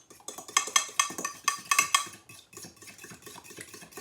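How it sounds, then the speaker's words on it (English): Two eggs are beaten in a bowl with quick, rhythmic strokes, each scrape and tap clearly audible, loud at first and then softening, with no talking. "But I'm going to start with 2 eggs. I'm going to beat them in the bowl."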